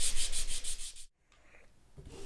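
A TUSQ guitar nut rubbed back and forth on sandpaper laid on a flat surface for an SG guitar, a loud rhythmic rasping for about a second, then silence and a faint scrape.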